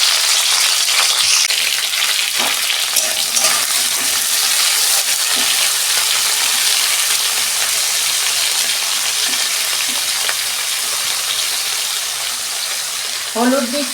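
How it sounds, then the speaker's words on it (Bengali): Bitter gourd pieces fry in hot oil in a pan, a loud, steady, dense sizzle that holds for the whole stretch with only brief faint knocks of a utensil and no talk. "তেল গরম হয়ে গেছে, আমি উচ্ছেগুলো ভেজে নেব লাল লাল করে।"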